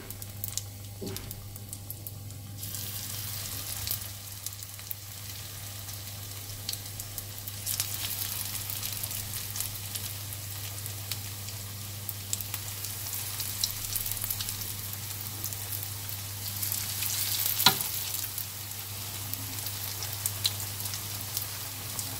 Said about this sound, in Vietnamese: các bạn sẽ chiên ở lửa trung bình cho mình